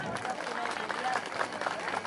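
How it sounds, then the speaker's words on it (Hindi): Village ceremony audience clapping in a dense, continuous wash of applause from many hands, steady and fairly loud for the whole stretch. "आप लोग एक बार जोरदार तालियां बजाइए"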